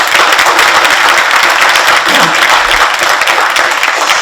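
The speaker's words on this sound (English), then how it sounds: "can we give a big round of applause to Heather" Sustained audience applause for speaker Heather at the close of a talk on talent marketplaces, skills and coaching, a dense steady clapping from a full room lasting throughout without a break.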